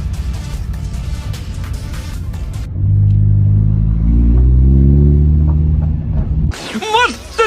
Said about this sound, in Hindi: गाड़ी के अंदर से ना एक आवाज आ रही है